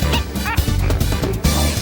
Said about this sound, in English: A spinner spaniel.